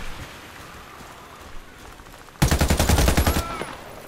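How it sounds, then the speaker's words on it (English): Automatic gunfire in the video game Warface: a loud, rapid burst of about a second of shots cuts through a quieter, noisy game background. "I'm getting shot all around me"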